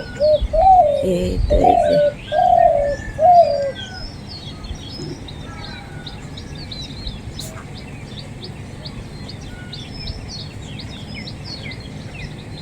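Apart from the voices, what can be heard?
dove cooing in the morning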